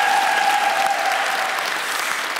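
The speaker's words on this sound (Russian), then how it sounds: "давайте поаплодируем Соболю" Studio audience at a Russian comedy roast show applauding steadily, a dense, even wash of clapping that holds at full loudness throughout with no talk over it.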